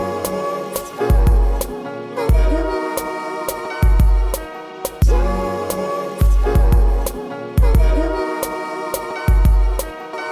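A hip-hop beat looped from an Akai MPC Live 2 sampler, with heavy booming kick and bass hits, snappy snares and layered chopped melodic samples repeating in a steady loop, loud and clean with no talking.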